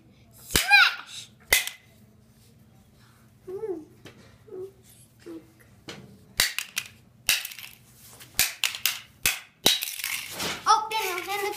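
Sharp, loud cracks and smacks come from smashing a pod, several sudden impacts scattered among excited voices and short exclamations close by.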